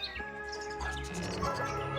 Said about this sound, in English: But the birds are coming and going freely.